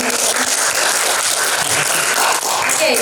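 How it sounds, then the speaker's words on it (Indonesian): Applause from a workshop audience at a journalism writing training session fills the room, a steady, dense clatter of many hands clapping throughout. "Tepuk tangan dulu dong, nggak ada yang ngomong."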